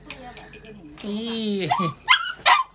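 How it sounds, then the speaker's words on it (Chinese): Close, fairly loud barking from a small dog: a drawn-out whining yelp followed by two sharp barks near the end. "那小狗使劲喊了怎么办？"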